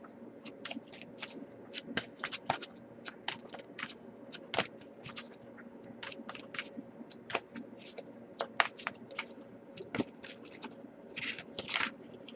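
Tarot cards are shuffled by hand in a quiet room, giving soft, irregular bursts of riffling and slapping that come in quick clusters over a faint background.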